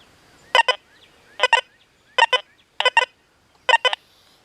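A Deus 2 metal detector sounds a sharp double beep five times at roughly even intervals, each pair of tones bright and clear over a quiet background, with no talking.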